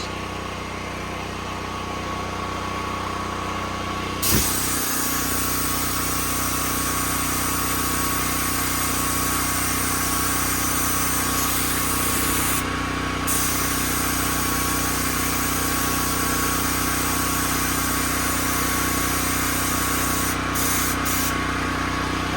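A DuroMax XP13000HXT generator runs steadily while powering a large air compressor under load, a dense continuous engine drone with broad hiss, close and unchanging, with a brief knock near the start.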